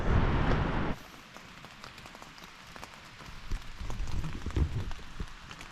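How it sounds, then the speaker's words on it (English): Light rain patters steadily on surfaces around 2:30 a.m. at Bowman Lake, Glacier National Park, with a loud rustling burst at the start and uneven crunching hiking footsteps later. "Hiking out in the rain."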